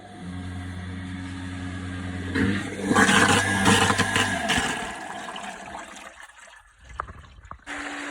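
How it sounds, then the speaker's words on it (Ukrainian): Dirty water gushing and splashing as it drains from a newly flushed well through a 32 mm pipe, over an engine-like hum that cuts off, leaving a quieter trickle and a few knocks. "грязну воду дренуємо"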